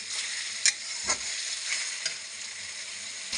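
Spice paste for a chicken curry sizzling in hot oil, a steady close hiss with a few sharp stirring clicks and scrapes scattered through, no voices.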